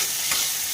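Prawns coated in salt and turmeric fry in hot oil, a dense, even, close sizzle with one faint soft bump, heard alone.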